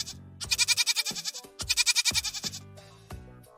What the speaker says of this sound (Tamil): ஆடு கத்தும்.